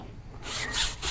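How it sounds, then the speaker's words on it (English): A stiff tyre brush scrubs the sidewall of a car tyre during wheel cleaning, giving a raspy back-and-forth rubbing that starts after a brief quiet lead-in and continues in loud, close strokes. "give this a little scrub"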